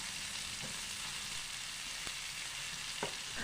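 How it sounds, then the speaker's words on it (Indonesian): A tofu filling of carrot, chopped cabbage and bean sprouts sizzles steadily in a hot pan, with a few soft scrapes and knocks as it is stirred. "Kemudian isian tahu isinya kita aduk supaya tercampur dengan bumbu dan supaya bumbu bagian bawahnya tidak gosong ya"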